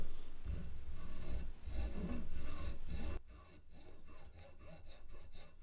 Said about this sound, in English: it's just a case of using my nut slotting files